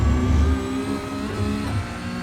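Porsche 911 Cup (992) race car engine in iRacing, loud and close, holding a steady drone through an upshift into third gear with a brief dip and recovery of revs.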